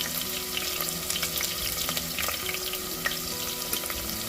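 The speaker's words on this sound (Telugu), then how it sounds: "వేసుకొని ఫ్రై చేయండి." Cinnamon and cloves fry in a pan with a continuous close, crackling sizzle and scattered small pops, with no talking.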